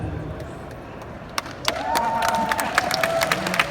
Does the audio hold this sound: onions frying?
no